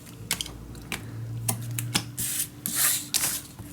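Adhesive tape is pulled and pressed onto paper pages of a handmade mini album, producing a series of close crinkling taps and sticky peeling rips in an irregular rhythm.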